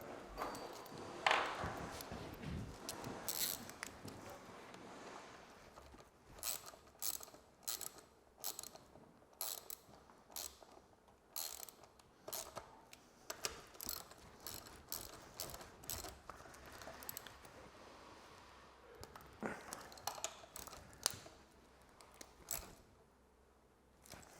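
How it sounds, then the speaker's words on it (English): Socket wrench tightening brake caliper bolts on an M2R Racing KX110F pit bike, with a 10mm socket: dense runs of sharp ratcheting clicks and metallic rattles, fairly close, continuing for the whole stretch with no talk. "you'll need a 10mm spanner or socket to fully tighten them"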